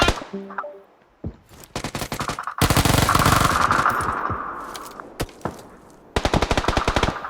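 Gunfire in a video game: loud bursts of rapid automatic fire crackle in long rattling volleys with a few single shots between them, close and dominant, and no talking.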